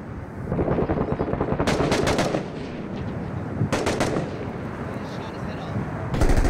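Mortars launching in the combat video game Six Days in Fallujah come as loud, sharp booming blasts, fired in clustered bursts with rumbling battle noise between them.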